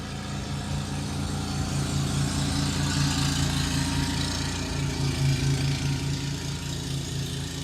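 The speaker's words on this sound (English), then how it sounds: "Let's pause for the lawnmower man to pass by" A lawn mower passes by outside, its steady mid-pitched engine drone holding throughout at moderate distance with a slight waver and no voices.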